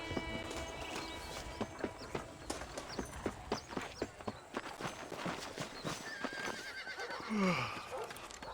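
A horse in the video game Red Dead Redemption, hooves clip-clopping in a steady walking rhythm, then a rising whinny near the end; close and clear with no talk.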